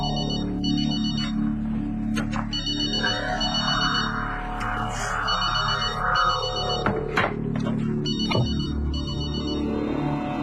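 A telephone rings steadily with repeated electronic bell tones inside a television soap opera scene, holding under a low, constant room hum for about ten seconds.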